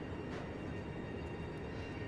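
A freight train locomotive rolling through a station in Chongqing makes a steady, dense rumble of wheels and machinery, close and continuous throughout, with no talking.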